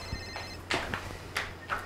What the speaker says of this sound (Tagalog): Ay, cellphone ko.